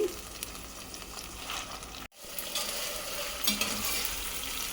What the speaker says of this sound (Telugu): ఆనియన్స్ ఇంకా గోల్డెన్ బ్రౌన్ కలర్ వచ్చేంత వరకు వేగాలండి